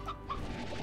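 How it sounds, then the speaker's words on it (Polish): Chickens in the video game Slime Rancher cluck in two short, bright calls over a dense, steady game ambience, moderately close and not loud. "Tu słyszę kurczaki, ale w sumie nie widzę."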